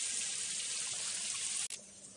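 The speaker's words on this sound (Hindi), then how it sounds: "इतना ज़्यादा पानी आ रहा है यहाँ पे" Strong water gushes steadily from a tap outdoors, a loud continuous hiss that cuts off abruptly near the end, leaving quieter trickling behind.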